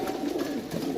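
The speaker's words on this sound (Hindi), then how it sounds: "माशाल्लाह कबूतर" Pigeons cooing steadily from close by, a soft continuous murmur of overlapping low coos with no talk.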